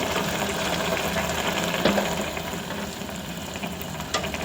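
Garelu, lentil fritters, fry in hot oil with a steady, dense sizzle and bubbling that stays even throughout, broken by a brief clink midway and another near the end.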